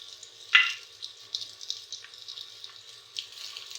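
Chopped tomatoes drop into a pan of frying onions with a sudden wet splash, followed by a soft, steady sizzle and faint stirring crackles, close and alone.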